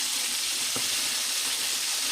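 Chicken pieces frying in hot oil give a steady, dense sizzle throughout, close and continuous, with a faint clatter near the middle and no talking.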